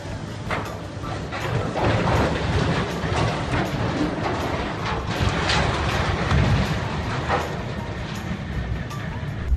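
Railway crane pushed off the track to be wrecked for scrap, a sustained loud grinding and rumbling clatter of heavy metal with scattered sharp knocks and bangs throughout.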